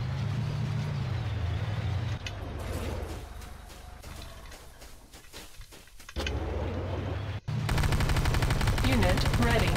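Gunfire in the video game Command & Conquer Renegade as a Nod Harvester comes under attack; rattling shots and mechanical clatter fill a dense, loud game soundscape with a low engine rumble throughout.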